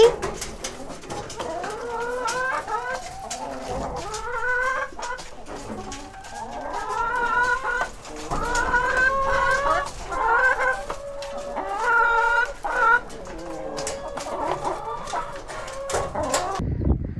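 Chickens in a farm coop cluck and murmur continuously with rising throaty calls, close and fairly loud, with some rustling movement throughout.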